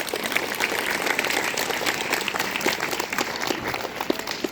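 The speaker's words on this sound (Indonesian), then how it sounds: "Tepuk tangan untuk kita semua" Students and staff at a madrasa flag ceremony practice in Bantul applaud together, a loud, dense burst of many hands clapping with crisp individual claps standing out, continuing steadily without talk.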